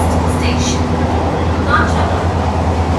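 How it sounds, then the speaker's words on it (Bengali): An AC local train rolls into Kanchrapara station with a steady, loud rumble and rattle of the carriages, faint squeals and clatter riding on top. "কাঁচরাপাড়া স্টেশনে প্রবেশ করলো আমাদের ট্রেন"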